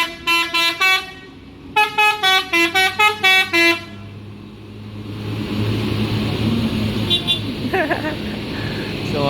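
An ANS bus leaves the Bukit Surungan terminal in Padang Panjang bound for Jakarta, sounding a melodic multi-tone horn in two rapid bursts. Its engine then rumbles louder as it pulls away, with voices in the background.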